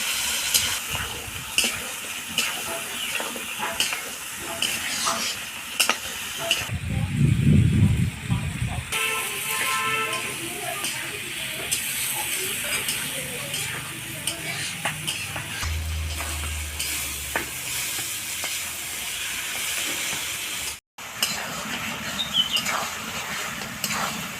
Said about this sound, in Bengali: এবার মাংসটাকে আমি ভালো করে কষে নেব